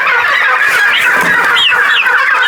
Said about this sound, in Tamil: இது மூணு டு நாலு மாதத்து கோழிங்க